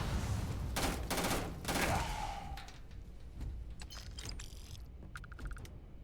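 Gunfire in a video game, with loud rapid bursts of shots up close that give way to scattered cracks, metallic clicks and rattles, and no voices heard.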